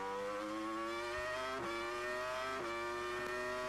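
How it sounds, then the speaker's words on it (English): A Formula One car at the 2002 German Grand Prix accelerates out of a hairpin, its engine pitch climbing in a series of sustained revving sweeps with quick upshifts, loud and steady throughout. "Accelerating out of the hairpin here."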